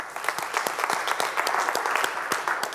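Brief audience applause at a media festival panel, a burst of scattered clapping from a crowd, moderately loud and without talk.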